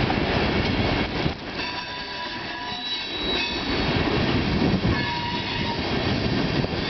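A CN freight train with a long string of tank cars rolls past Bayview Junction in Hamilton, Ontario, close by and loud. Its wheels rumble and clatter continuously, with faint squeals from the wheels on the rails.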